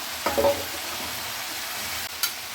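Soaked, rinsed mushrooms go into a hot pan and set off a steady, close sizzle, with a few brief stirring clinks near the start and again near the end.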